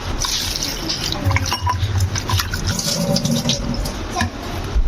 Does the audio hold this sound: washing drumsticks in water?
yes